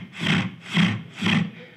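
A voice imitates troops marching in a column: three rhythmic, breathy rasping strokes, evenly spaced and fairly close, like a saw or rasp, with no other talk.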